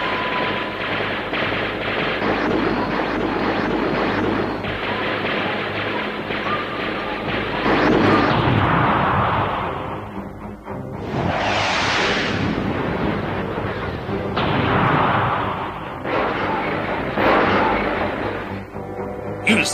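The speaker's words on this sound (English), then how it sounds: "Super Lynx, attack and fire" A robot attacks and fires its weapons in an animated film, producing sustained loud machine-gun-like bursts and blasts with surging whooshes that rise and fall across the scene, at times under speech.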